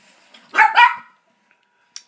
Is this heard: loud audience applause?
no